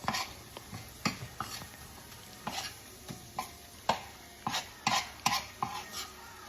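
A spoon stirs a flour mixture in a cooking pot with canned green beans, giving a run of short, sharp scraping clinks spaced irregularly over a quiet background, close and fairly faint.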